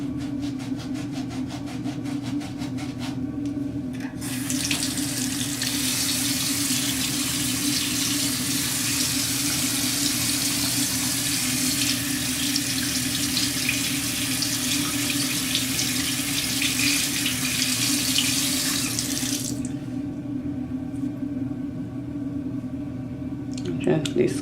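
Water runs steadily from a sink tap as makeup brushes are rinsed, a continuous hiss lasting most of the clip, starting abruptly after a few seconds and stopping near the end, with a low hum beneath.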